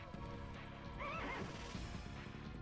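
A horse whinnies in the video game The Legend of Dragoon, a rising, wavering call over a dense, steady wash of game music and background noise.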